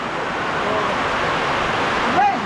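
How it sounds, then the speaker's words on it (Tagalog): Heavy rain pours in a steady, dense broadband wash during a typhoon, loud and continuous throughout, with a brief faint voice-like tone near the end. "Lakas ng ulan."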